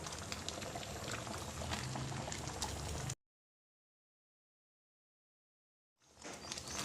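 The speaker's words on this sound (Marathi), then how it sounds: "हे बघा, अशा उकळ्या आल्या पाहिजे." An apple, beetroot and carrot mixture bubbles in a pot, a busy close simmering hiss that cuts out abruptly, leaves a silent gap, then returns.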